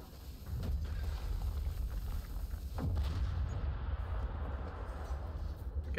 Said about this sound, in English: Okay, we have to fire the bombards now.